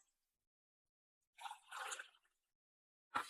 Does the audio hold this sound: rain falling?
no